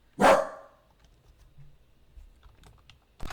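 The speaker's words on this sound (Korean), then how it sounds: "누가 소리 내는 것을 가지고 또 못 참고 짖었습니다." A pet dog gives one loud, sharp bark nearby, set off by a noise outside, then goes quiet; faint rustling follows and a short clack ends it.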